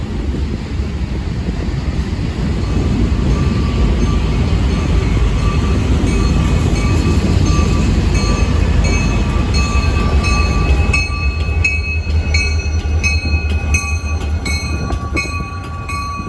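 A train reversing northbound through Mansfield station near Boston rumbles steadily and loudly past at close range, with continuous wheel and engine noise and rhythmic clicks from the rails toward the end.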